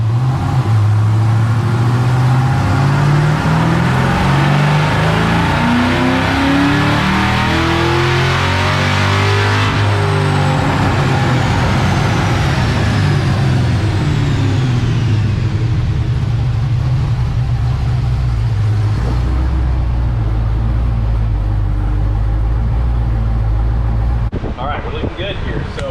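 An LSA-engined car being tuned roars loudly through a long pull, its engine note climbing and then dropping with a downshift, before settling to a lower rumble near the end; voices talk briefly over it.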